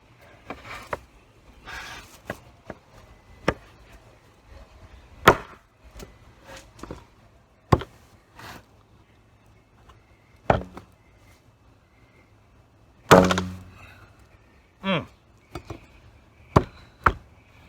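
Big knives strike hard at a chopping contest, giving sharp, isolated thwacks spaced a second or two apart, some louder and heavier, over a quiet background.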